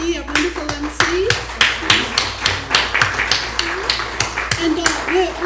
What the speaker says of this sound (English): Much applause to Joyce for leading us here